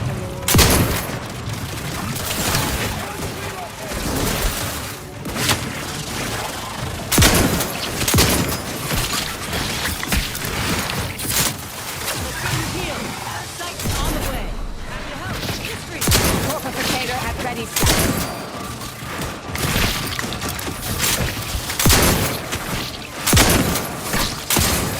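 Sustained gunfire in the video game The Outer Worlds 2: dense, rapid bursts and booming impacts crowd the whole stretch, loud and close, with voices calling out over the barrage.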